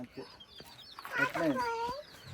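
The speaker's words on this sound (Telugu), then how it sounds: "కోడి" A farm chicken clucks several times close by, in short rising and falling calls, while people talk quietly nearby.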